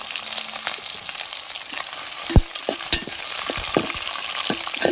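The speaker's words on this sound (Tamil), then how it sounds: "இந்த எண்ணெயிலே வெங்காயம் பச்சை மிளகா கொஞ்ச நேரம் வதங்கி வரும்." Onions and green chilies frying in hot oil in a pan, a steady close sizzle with occasional clinks and scrapes of stirring throughout, no talk.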